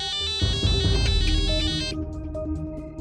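A mobile phone ringtone plays loudly and close, a bright repeating melodic tune with a fuller backing at first that thins to lighter chiming notes.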